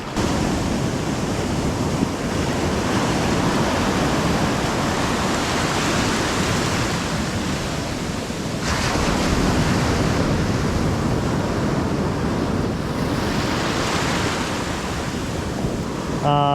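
Ocean waves wash loudly and continuously onto a cold Florida beach, a dense roar of surf mixed with wind buffeting the microphone close up, and no talk.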